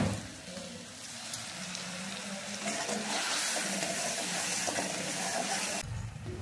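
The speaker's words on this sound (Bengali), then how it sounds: "এরপর কিন্তু ভালোভাবে মশলাটাকে ফুটিয়ে নেব।" Masala paste for mustard hilsa curry bubbles and sizzles in a pan, a steady hissing simmer that grows denser partway through and cuts off near the end.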